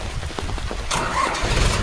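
A tractor engine rumbles low and steady nearby, with a rising roar about halfway through.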